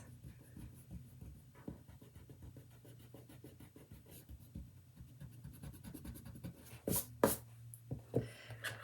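An eraser rubs over a pencil drawing on paper in soft scratchy strokes, close and faint, ending in a few louder brisk scrubs.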